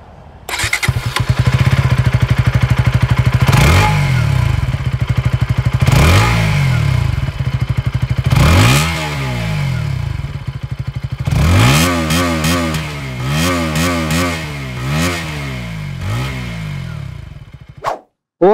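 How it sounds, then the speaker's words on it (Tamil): A KTM Duke 160 motorcycle with an underbelly exhaust starts up close by and idles with a steady putter, then rises into repeated sharp throttle revs that climb and fall, ending in a quick burst of blips. "ஸோ எக்ஸாஸ்ட் நோட்டு எப்படி இருக்குன்னு சொல்லி கேட்டுருங்க."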